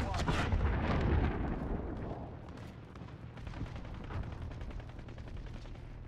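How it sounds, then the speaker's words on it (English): A cruise missile strike in the Call of Duty: Modern Warfare video game, with a heavy booming blast up front that fades into a long rumble and a scatter of sharp crackling impacts and gunfire. "Allied cruise missile one."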